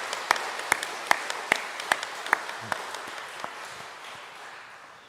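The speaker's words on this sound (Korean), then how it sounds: "우리 교사들을 위해서 한번 박수로 격려할까요?" A church congregation claps for its teachers at a Saturday dawn prayer service, a few distinct claps in a loose rhythm that thin out and fade.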